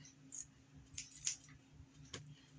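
Scissors trim gathered lace hot-glued onto cardboard for a sink-strainer hat craft, giving a handful of soft, quick snips spread unevenly over a quiet room.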